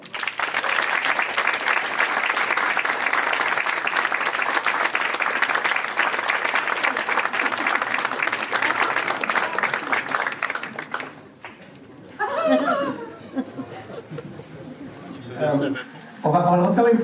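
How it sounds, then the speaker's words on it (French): Audience applause fills an indoor festival hall of short films, a dense steady clapping for about eleven seconds before it thins out, with scattered voices and a few further bursts of clapping afterward. "je vous demande d'applaudir bien fort Stéphane Roy"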